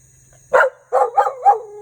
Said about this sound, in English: excuse the dog is barking